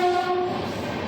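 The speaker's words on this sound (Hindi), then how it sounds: "रेलवे लाइन है यहाँ पे, ट्रेन जा रही है।" A train passes along a railway line beside a rural home, its horn sounding briefly at the start over the loud, steady rumble of rolling wagons.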